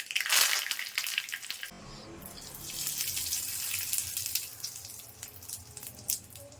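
Mustard seeds and curry leaves frying in oil in a pan for radish chutney, a loud hiss and crackle bursting up close and continuing as a steady sizzle.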